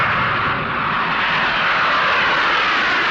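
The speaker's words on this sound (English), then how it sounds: "the Antonov 124." Antonov An-124 strategic airlift jet's engines roar in a steady, loud, broadband drone with no voices, holding constant throughout.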